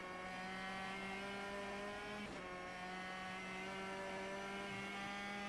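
A Ford Focus touring car pulls out of the pit lane at a test track, its engine droning steadily with a sustained high tonal whine and a brief shift near the middle, heard from onboard with no talk.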